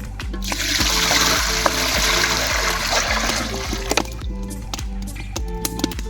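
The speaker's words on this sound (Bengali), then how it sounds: "আর জল ঢেলে নেব।" Water is poured into a cooking pot set on the stove in a village kitchen, heating to scald a duck, a steady splashing stream with scattered clinks and drips as it tapers off.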